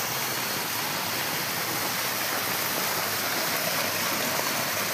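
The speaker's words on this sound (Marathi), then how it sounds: "हे जे पाणी येत आहे ते कोणत्याही यंत्राच्या मदतीशिवाय" Water flowing by siphon without machinery at a historic watermill, rushing and splashing continuously, a loud, even roar with no breaks and no voices.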